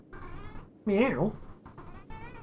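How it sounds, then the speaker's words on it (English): A cat lets out one loud, close, rising-and-falling meow, framed by quieter voiced sounds before and after. "I don't know if it's picking up Sam at all, or if it just sounds like I'm sitting here going meow, meow to myself"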